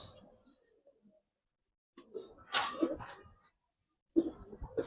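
Pigeons coo softly in a Giribaz pigeon loft, a few low, breathy bursts with pauses between them, while faint movement carries on in the background.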